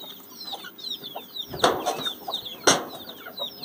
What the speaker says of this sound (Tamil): இதில் தனியாக ஒரு கோழியும் சேவலும் இருக்குங்க